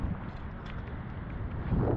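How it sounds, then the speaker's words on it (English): Steady wind buffets the microphone in gusts out on a tower above the shallows of Mobile Bay, a continuous low rumbling rush with no talking. "A little bit windy today,"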